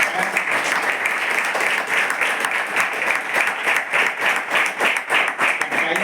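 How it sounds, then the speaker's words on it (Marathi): Audience at a program in a tribal girls' hostel claps loudly and steadily in a dense, rhythmic burst that holds for the whole stretch, with faint voices under it. "त्यांनी लवकर टाळ्या वाजवल्या, पटकन वाजवायच्या"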